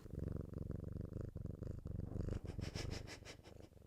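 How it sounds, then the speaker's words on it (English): A cat purrs loudly and close up, a deep rhythmic rumble pulsing with each breath, steady throughout with no talking. "You're so cute and such a loud purr."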